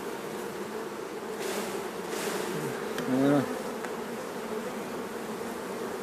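Bees buzz in a dense, steady drone around an open beehive during work on the frames, close and constant, with someone speaking a single brief word partway through.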